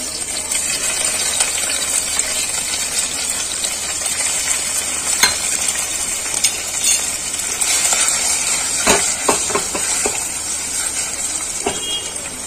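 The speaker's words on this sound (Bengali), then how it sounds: "আমার তেলটা গরম হয়ে গেছে। এবার আমি পনিরগুলোকে ভেজে নেবো।" Paneer cubes frying in hot oil, a steady close sizzle running throughout with a few sharp clinks and taps of a utensil near the end.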